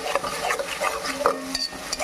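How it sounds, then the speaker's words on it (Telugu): Chopped carrots and tomatoes frying in a home kitchen pan, stirred with a utensil, giving a close soft sizzle with scraping and light clinks. "మంచిగా ఫ్రై అవుతున్నాయండి"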